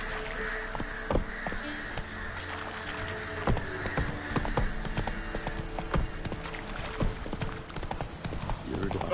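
Horse hooves in The Witcher 3: Wild Hunt clip-clop steadily through the whole stretch, with a brief whinny and game voices and music talking over the riding.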